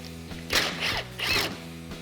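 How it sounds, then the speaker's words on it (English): A 10mm socket ratchet clicks in two short bursts as it backs a bolt out of a Jeep Gladiator JT fender support, close and fairly quiet, with no talking. "we're going to remove this 10mm bolt out of our fender support. With a 10mm socket,"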